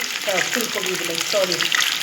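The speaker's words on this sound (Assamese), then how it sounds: "এতিয়া মই ভাজিছোঁ মাছখিনি" Pieces of fish sizzle and spit in a hot frying pan, a close, steady crackle with occasional stirring and what may be faint voices underneath.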